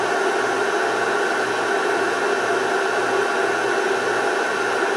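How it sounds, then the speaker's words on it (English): The cooling fan of an induction heater runs in a steady, loud, broadband whir with an even hum underneath and no change throughout. "I guess the fan on this thing runs as soon as you plug it in"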